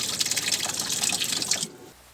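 Water runs from a tap inside a campervan fed by an insulated tank, a close steady gushing stream that cuts off abruptly near the end.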